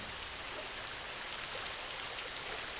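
Steady rain falling in a calm, sleep-inducing setting, a continuous hiss of drops on a surface with scattered pattering. It stays even and moderately near throughout, with no talk.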